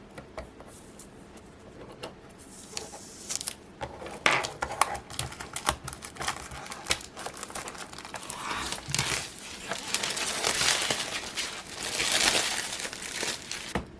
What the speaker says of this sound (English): Let's go ahead and cut open this plastic piece.